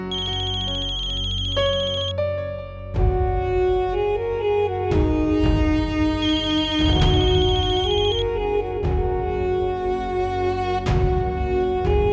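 A melodic phone ringtone plays loudly and continuously, its electronic tune repeating in bright chiming phrases with no voices over it.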